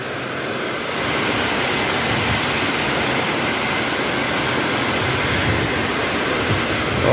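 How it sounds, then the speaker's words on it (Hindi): Heavy rain pours down during a strong night storm as a loud, dense, unbroken roar that holds steady throughout. "बहुत तेज तूफान हो रहा है, इतना जबरदस्त पानी गिर रहा है"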